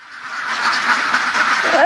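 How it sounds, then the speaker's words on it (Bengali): Khaki Campbell ducks on a duck farm make a dense, loud chorus of overlapping quacks that runs nonstop and builds slightly toward the end. "এগুলি ক্যাম্বেল হাঁস"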